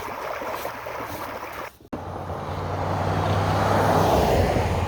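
Water rushes steadily through a culvert filled to the top, a broad roaring wash that dips briefly near the middle, then swells louder and closer.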